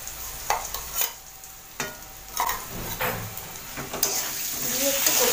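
Potatoes stir-frying with cumin, green chili and ginger paste sizzle steadily in a pan while a spatula scrapes and knocks through them in repeated strokes, close and clear.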